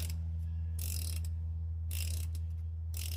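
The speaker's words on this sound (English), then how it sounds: "I'm just gonna use this socket really quick to get it snugged all the way down." A ratchet socket wrench snugging a spark plug into a Mazda Skyactiv-G 2.5L engine, giving two short bursts of rapid metallic clicking, close and clear over a steady low hum.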